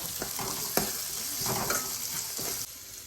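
Chopped green chilies fry in a pan of fish curry, giving a soft continuous sizzle broken by a few sharp clinks and stirring scrapes, close by and without talk.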